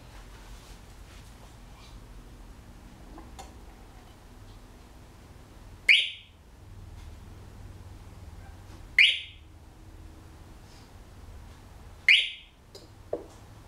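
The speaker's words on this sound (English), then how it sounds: "The alarm will sound every 3 seconds, like you saw, until the water reservoir is refilled." A hydroponic grow station's low water level alarm chirps three times at regular intervals a few seconds apart, sharp and clear over a low, quiet hum.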